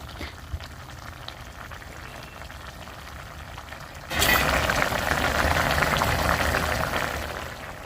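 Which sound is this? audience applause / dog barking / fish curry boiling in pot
fish curry boiling in pot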